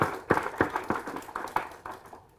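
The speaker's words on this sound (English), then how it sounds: "Please, a round of applause again to the" A small summit audience gives a short burst of scattered claps, a handful of distinct hand strikes at an uneven pace that fade out within a couple of seconds.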